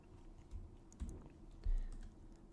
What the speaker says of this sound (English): Hit enter and make sure to dedent before typing else.